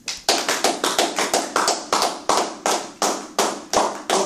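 Congregation in church clapping in a steady, rhythmic beat, about three sharp claps per second, loud and close, with no talk over it.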